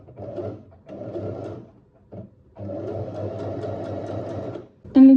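A sewing machine stitches slowly around the rounded curve of a shirt cuff in several start-stop bursts with brief pauses between them. A sharp, louder tonal sound follows at the end.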